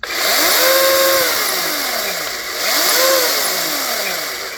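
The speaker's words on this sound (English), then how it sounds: "really powerful chainsaw" A RIDGID 18V cordless chainsaw revs up twice in quick succession, each burst rising to a loud close whine and then winding down, with no talking.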